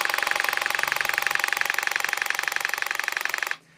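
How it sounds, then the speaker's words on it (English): A DeWalt 18V XR brushless SDS hammer drill runs in hammer mode, giving a rapid, steady mechanical pounding rattle close by for about three and a half seconds before stopping abruptly. "So that's just on the hammer action there."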